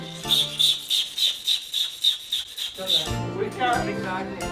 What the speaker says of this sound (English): These sounds that this perfume bottle makes, I really need you to hear it.